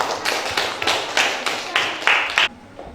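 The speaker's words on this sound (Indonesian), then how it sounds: "Kita berikan aplaus untuk kelompok kita" A small audience applauds a presenting group, with a run of rhythmic, fairly close claps for about two and a half seconds that then stops abruptly.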